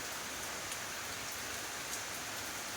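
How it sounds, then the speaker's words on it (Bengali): Heavy rain pours down in a steady, dense hiss that stays even and loud throughout, with no voices. "ভারী বৃষ্টি এসেছে আজকের"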